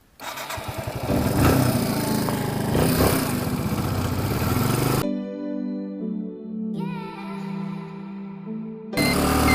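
Motorcycle engine roaring loudly and steadily while riding on a road with scattered gravel, then dropping to a lower tonal drone with a brief quieter stretch before the roar returns near the end.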